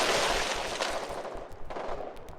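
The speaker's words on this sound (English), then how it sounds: "Yep, that's a mortar for sure." Mortar fire in the war game Foxhole rumbles through a dense stretch of loud, overlapping blasts and gunfire-like bursts, with a few sharper impacts standing out.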